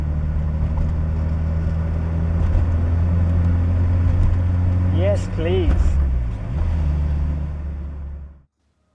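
Stock Toyota AE86, a light car of about 900 kilos, driving with a steady low engine drone and rising revs close by, while a voice speaks briefly over it.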